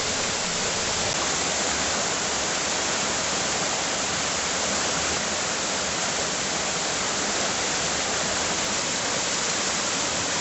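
Stock Ghyll stream in Ambleside rushes steadily past old mill workings and wooden sluice gates, a dense, unbroken wash of flowing water that stays loud and even throughout.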